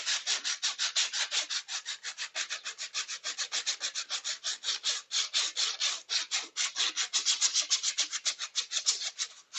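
A 3D printed sanding bow rubs back and forth across wood in a fast, steady rhythm of close, loud, bright scratchy strokes, continuing alone for the whole stretch with no talking.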